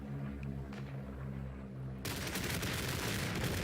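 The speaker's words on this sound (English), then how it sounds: "That was the airstrike" Airstrike in the World War I shooter Isonzo: a sudden heavy blast rolls in halfway through, followed by a sustained roar of explosions and rumble, loud and close, with no talking.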